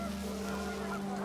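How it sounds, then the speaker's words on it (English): Panicked geese honk in What Remains of Edith Finch, a brief burst of honking over a steady low hum and wind, moderately loud and alone. "The wind picked up, and panicked geese appeared and quickly went."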